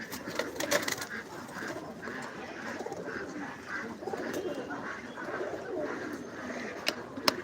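Pigeons coo repeatedly and close by in a busy loft, their low rolling calls overlapping amid rustling, occasional clicks and faint background chatter.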